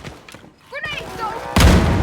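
A grenade blast in the shooter game Wolfenstein Youngblood: a sudden loud explosive burst with crackling gunfire right after a short stretch of talk.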